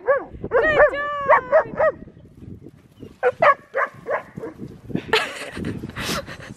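Young puppy yipping and whimpering close by in a string of short high cries and barks, followed by rustling movement.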